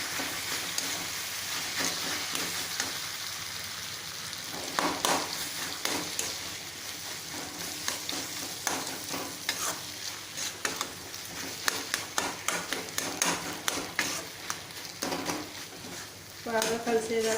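Potato upma curry being stirred in a pan: close, continuous scraping and clattering of a spoon against the pan over a low sizzle, with sharper knocks toward the end.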